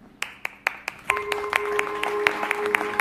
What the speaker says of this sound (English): Let's give him a few golf claps.